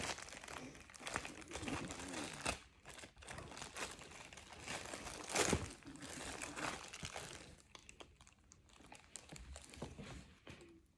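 Plastic packaging being torn open and handled, with crinkling and crunching that come in close, uneven bursts and swell into one louder rustle midway.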